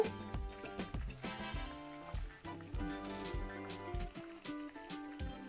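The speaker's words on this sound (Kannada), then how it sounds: "ಈಗ ಈ ಕಡೆ ಒಂದು 2 ನಿಮಿಷ ಫ್ರೈ ಮಾಡ್ಕೋಬೇಕು ನೋಡ್ರಿ." Bangada mackerel coated in rava frying in a pan, a busy steady sizzle with repeated scraping and stirring knocks throughout, close up with no voices.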